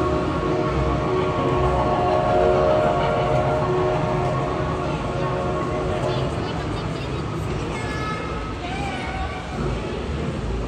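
A train passes near an outdoor stone-sculpture exhibit in Serra Gaúcha, Brazil, giving a steady close rumble with sustained tonal, horn-like notes that slowly fade, while people talk nearby.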